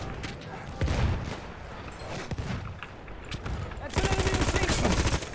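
Battlefield 1 gunfire, likely from a Burton rifle, cracks in scattered shots with battle noise. It then breaks into a loud, rapid automatic burst near the end, with a voice faintly mixed in.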